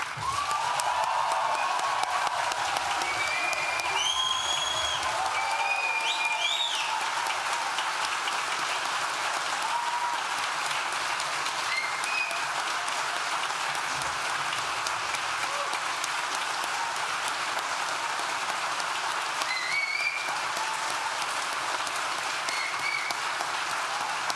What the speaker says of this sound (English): one last huge round of applause, whooping, cheering, stomping